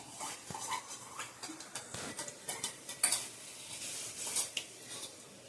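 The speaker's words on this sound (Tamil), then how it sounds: "தக்காளியும் அதில் போட்டு நல்லா வதக்கிடுவோம்." Ground tomatoes sauté with softened onions in a pan, with frequent utensil scrapes and clinks against the cookware over a steady low sizzle.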